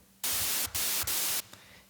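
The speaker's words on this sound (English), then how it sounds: "So next sound is the white noise" A white noise layer from a future bass mix sounds as three loud, sharp-edged hiss bursts separated by brief gaps, alone, with no voices.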